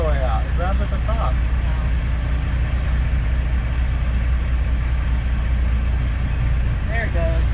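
A truck's engine rumbles steadily at low idle while the clutch is being released, a constant close drone with voices talking over it.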